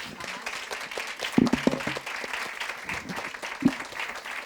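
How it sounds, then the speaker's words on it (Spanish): Audience applause for three panelists at a Berlinale film market event, a dense wash of clapping with a few sharper hand claps close by and voices underneath. "Voy a pedir un aplauso para estas tres."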